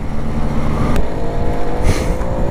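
A blue Motobécane AV 88 moped accelerating at full throttle: a loud, steady engine drone that holds close and continuous throughout, with no speech.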